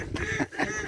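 Ducks quacking in short bursts outdoors, a few raspy calls close together over a low background.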